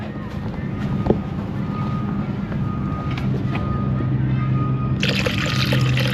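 A small amount of water pours into a Jeep 3.7 L coolant reservoir in a steady trickle, outdoors with light wind noise, and a brighter splashing rise toward the end.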